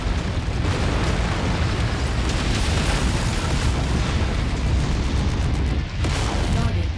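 Explosion of a destroyed target in MechWarrior 5: Mercenaries, a dense, loud roaring rumble that stays steady for the whole stretch, with a brief dip and a renewed swell near the end.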